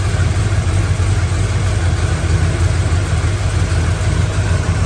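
Loud, steady idle of a 1972 Chevrolet K10 pickup's built-up engine with Edelbrock carburetor: deep rumble and constant drone, no speech, running unchanged throughout.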